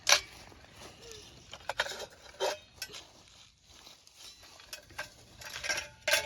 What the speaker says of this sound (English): So these are the pieces of the stove. Can you take it all out for me?